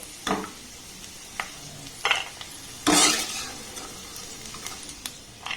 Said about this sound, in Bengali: আবারও একসাথে একটু ভালোভাবে নাড়াচাড়া করে নেব ড্রাই ফ্রুটগুলোকে